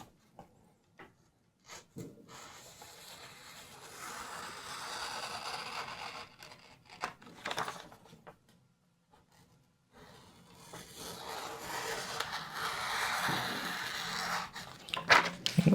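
A Kershaw Cryo 1555Ti folding knife with 8Cr13MoV steel is wiped and then drawn through paper. Bursts of close rubbing and papery scraping come between short quiet gaps, with no speech.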